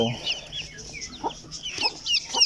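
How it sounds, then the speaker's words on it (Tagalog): Newly hatched Silkie chicks, three white and three brown, cheep in a steady run of high, thin peeps, close and clear. Soft low clucks sit underneath, with no talk. "So ito po ang mga sisiw niya."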